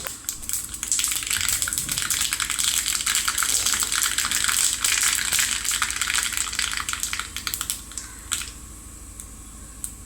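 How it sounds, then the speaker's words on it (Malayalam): Rapid, dense crackling and spitting of small seeds popping in hot oil, close and continuous, easing off slightly near the end. "കടുക് പൊട്ടുന്നുണ്ട്."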